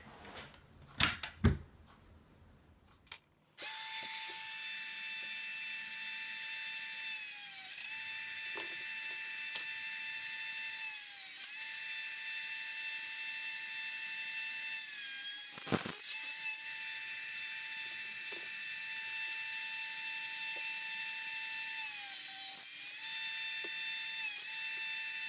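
A high-pitched rotary cutting tool whines steadily while cutting a Tamiya Mini 4WD MA plastic chassis, its pitch dipping briefly under load several times, after a few opening clicks and handling knocks.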